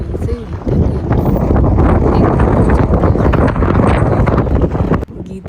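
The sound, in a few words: strong wind in Jomsom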